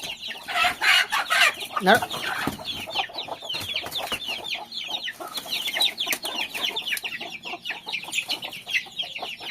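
Village chickens, hens and chicks, cluck and chirp in a busy overlapping chorus at dawn, moderately near, with scattered calls continuing throughout.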